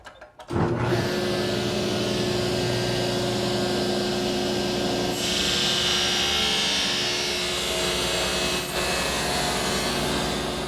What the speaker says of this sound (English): I've tipped my table saw blade to 45 degrees